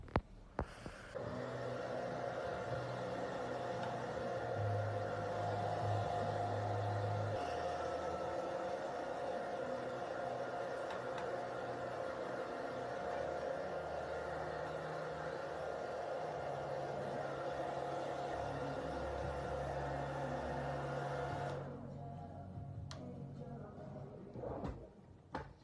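A hair dryer running after a shower, a steady loud whooshing blow with a tonal whine that holds for about twenty seconds, then cuts off into quieter room sounds and a few handling knocks.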